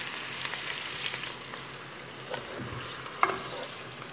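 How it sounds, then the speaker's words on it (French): Onion and meat sauté in a pan for a stew, giving a steady, soft sizzle with light stirring scrapes and an occasional clink of a utensil. No one speaks. "je vais faire revenir l'oignon et la viande"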